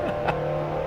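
A car accelerates hard on the Formula E circuit at Ancol, its engine a steady, loud drone heard close from inside for under a second.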